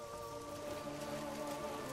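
Rain falls on a wet town in the video game The Elder Scrolls IV: Oblivion, a soft, steady hiss of drops patters under a faint sustained tonal hum, quiet and unbroken, with no speech.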